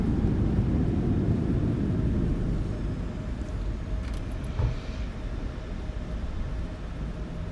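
An airliner in the MSFS 2024 flight simulator lands with thrust reversers and braking, making a loud, steady broadband engine roar that gradually eases as the aircraft slows, with a few brief clicks.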